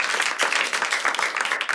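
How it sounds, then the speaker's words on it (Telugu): An audience at a Telugu stand-up comedy show claps steadily and fairly loudly throughout, with dense overlapping hand claps and no talking. "Claps claps."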